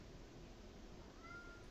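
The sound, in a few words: cat meowing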